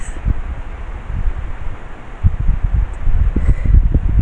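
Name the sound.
wind blowing, rustling papers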